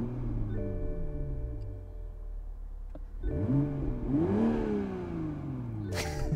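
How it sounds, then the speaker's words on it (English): A 2021 Toyota Supra 3.0 Premium idles steadily, then its engine is revved twice in quick rising-and-falling swells, followed by a brief higher-pitched burst near the end. "let's go ahead and get in and start the Supra up"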